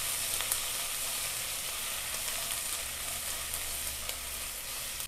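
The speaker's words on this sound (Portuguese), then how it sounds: "Agora vamos mexer essa cebola até ela ficar douradinha." Chopped half onion frying in a pan with sliced calabresa sausage for feijão tropeiro, a steady broadband sizzle with occasional soft stirring scrapes, close and continuous with no talk.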